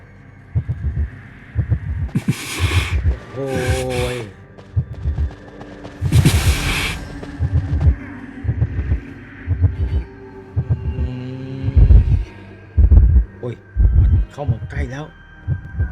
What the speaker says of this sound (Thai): เสียงหัวใจเต้นรัว